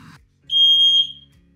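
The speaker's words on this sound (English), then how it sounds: "testing out a fire alarm in the background" A smoke alarm being tested in a van gives one loud, piercing electronic beep lasting about half a second, with faint low hum before and after.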